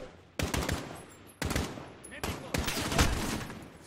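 Automatic gunfire in Call of Duty Modern Warfare, several sharp bursts of rapid shots at close range separated by brief pauses, the last burst longer and sustained.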